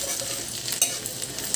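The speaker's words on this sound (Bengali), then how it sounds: "এই কোচানো রসুনগুলো দিয়ে দিলাম, ভালো করে আমি লাল করে ভেজে নেব" Chopped garlic frying in hot oil in a pan for an aloo capsicum sabji, giving a dense, even crackling hiss, close and fairly loud, with one or two small sharper pops.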